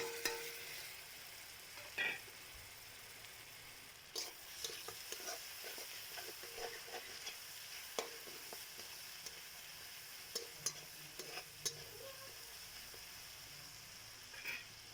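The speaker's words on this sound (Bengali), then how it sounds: "এখন নুনটা দিয়ে কিছুক্ষণ নাড়াচাড়া করতে হবে, টমেটো যতক্ষণ না সিদ্ধ হয়ে যাচ্ছে।" Tomatoes and salt get stirred in a pan for a Maggi noodle dish, with a steady soft sizzle and scattered scraping clicks of the spoon at irregular intervals, moderately near and fairly quiet.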